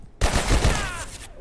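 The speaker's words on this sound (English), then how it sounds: "Shooting." Gunfire in the video game Abiotic Factor, a short dense burst of rapid shots lasting about a second, loud and close with nothing else audible.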